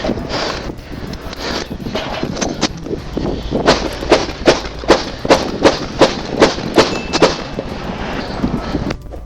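Rapid gunfire rings out during a police shootout, a loud run of evenly spaced sharp bangs with metallic clangs, building into a regular volley over a noisy background.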